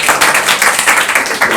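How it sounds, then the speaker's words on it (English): An audience of a Nairobi college claps for students, a steady, dense patter of many hands close by, continuous and lively throughout the short burst. "Let's clap for them"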